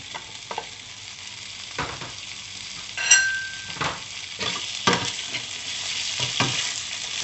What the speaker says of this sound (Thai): เราก็เอาหมูยอลงไปผัดเลยค่ะ